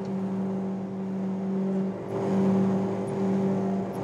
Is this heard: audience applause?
no